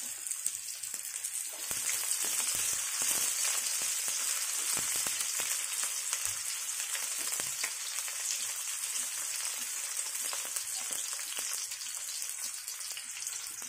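Garlic and onion fry for dinuguan, a dense, loud, steady sizzle with scattered crackles and light stirring scrapes running the whole time.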